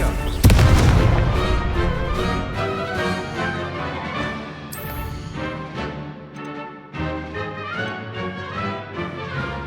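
Confringo blasting spell explosions in Hogwarts Legacy, a loud booming blast at the start followed by a dense, rumbling wash of crackling impacts and game effects that continues throughout.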